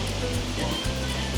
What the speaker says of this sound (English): Little waterfall there, which lines up perfectly